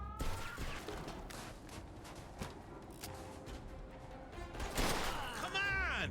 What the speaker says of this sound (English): the cops show up and it turns into a huge shootout